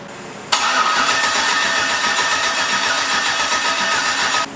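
An LS engine in a Ford Mustang starts abruptly with a sharp burst of sound, then runs steadily and loudly close by, holding an even drone until it cuts out just before the end.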